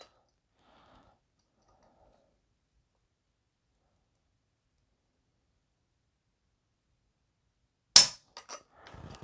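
A single sharp trigger click from a Kimber Rapide Black Ice 10mm 1911 pistol during a trigger weight test, loud and close, followed by a few faint handling clicks after long silence.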